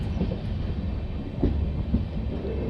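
The LHB-coach Tebhaga Express (13162) at Rampur Bazar railway station, a heavy continuous low rumble of rolling coaches with a few soft thumps, near and steady, no talk.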